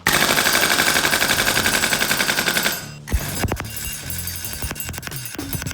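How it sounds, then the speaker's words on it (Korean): A HK416 gas blowback airsoft rifle fires a rapid, loud burst as the bolt cycles, then falls into scattered clicks and single mechanical snaps. "방아쇠를 당기면 해머가 탄창의 가스밸브를 때려 나오는 가스의 압력으로 노리쇠 뭉치가 왕복 운동합니다"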